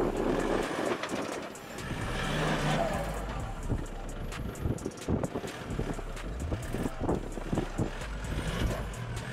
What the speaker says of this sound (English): Even with the activated rear lock,